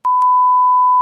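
A pure 1 kHz sine test tone, a steady, even beep that starts sharply and holds alone at constant loudness for about a second.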